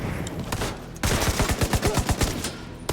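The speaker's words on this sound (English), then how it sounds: "Firing on target!" Rapid automatic gunfire from the video game The Division 2, set in New York, rattles in loud close bursts, with a short pause before a dense run of evenly spaced shots.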